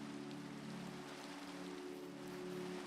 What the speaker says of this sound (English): I'm actually really enjoying the ambience of the rain here.